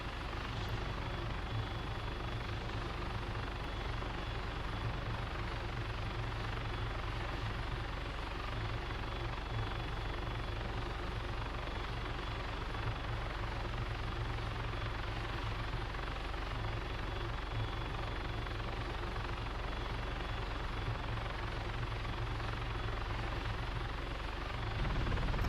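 Helicopter in the military game ARMA III, a continuous loud rotor and engine drone that holds steady for the whole stretch with no talk.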